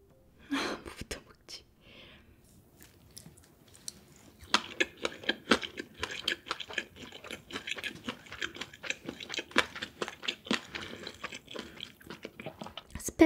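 School Food gimbap being eaten up close, soft wet chewing and biting sounds in an irregular rhythm, with a brief whispered voice near the start.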